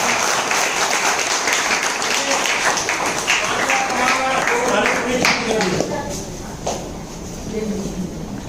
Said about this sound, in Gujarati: જોરદાર તાળી સાથે એમનું સ્વાગત કરીએ